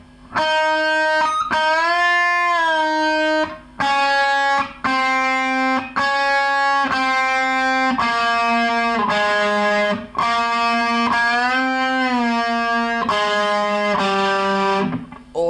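A distorted electric guitar slowly plays a song's riff, with thick sustained power chords in a steady chugging pattern broken by short muted gaps, loud and close with no voices.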